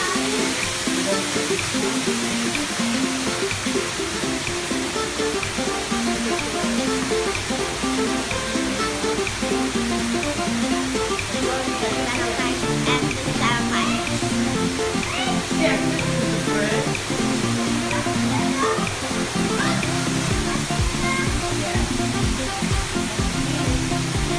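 A water park lagoon waterfall pours in a continuous dense hiss, with background voices and splashing faintly mixed through.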